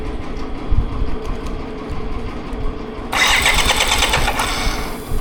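A BMW K75RT motorcycle that had sat unused for nine years cranks and fires up partway through. It then settles into a steady, loud running idle close by, with no talk.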